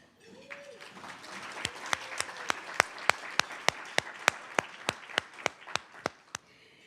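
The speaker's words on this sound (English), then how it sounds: "please stand for a round of applause." Applause from a luncheon audience at a chamber event, starting as a dense patter and thinning into a slow run of single, separate claps near the end, with a faint voice at the start.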